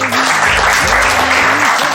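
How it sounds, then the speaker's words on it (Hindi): A crowd gives loud, sustained applause for a child who brought a donation for poor children, with steady clapping throughout and voices rising over it. "तालियां बजाओ इस बच्चे के लिए।"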